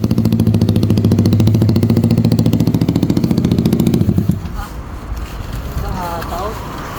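A Royal Enfield motorcycle engine idles with a loud, rapid, even thumping close by, then cuts out and leaves wind noise and a voice speaking.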